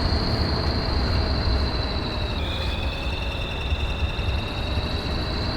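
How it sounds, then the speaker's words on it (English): Off-road truck engine in Spintires: MudRunner, a loud, steady roaring drone with a high whine holding throughout, dipping briefly midway, no voices over it. "Listen to that engine purr, or blow your eardrums out, whichever."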